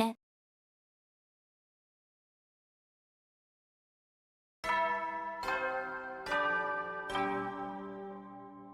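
Four rich, ringing bell strikes from The Hundred Line video game, chimed one after another in a steady sequence with long overlapping decay, sounding alone after a stretch of silence.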